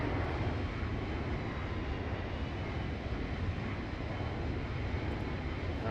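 Steady, loud broadband roar of Airbus A321neo engines with LEAP powerplants in the X-Plane flight simulator, heard from outside the aircraft, continuous and unchanging throughout with no talk.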